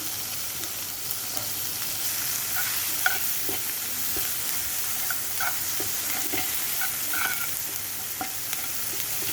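Long-sliced onions frying in a hot pan, a steady hiss of sizzling oil with scattered light scrapes and clicks of a spoon stirring, close and alone with no talk.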